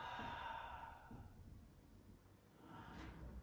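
A long, deep exhale is breathed out in a quiet yoga session, a soft close sigh that fades, followed by a faint breath near the end.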